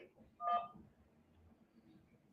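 A single short telephone keypad beep sounds as a call is accepted, clear and fairly loud for about a fifth of a second over faint background hum, then quiet.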